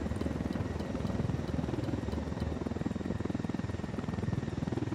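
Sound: helicopter flying in a video game

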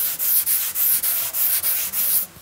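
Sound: hand sanding filler primer on Oettinger TCR car body kit

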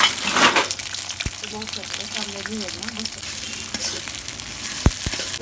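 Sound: onions and spices frying in oil in a wok

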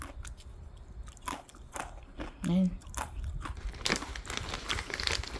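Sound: eating a barbecue-flavored snack

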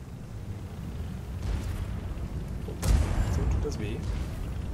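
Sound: tank autoloader cannon shots in the video game World of Tanks

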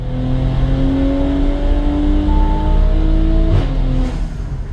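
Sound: Audi B9 SQ5 3.0T engine revving during dyno pull

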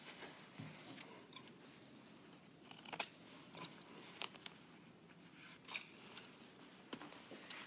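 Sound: scissors trimming the corner of a tufted fabric sampler

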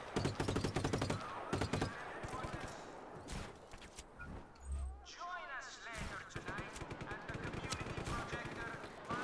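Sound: gunfire from the video game Just Cause 3

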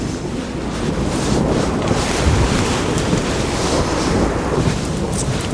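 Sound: wind by the sea

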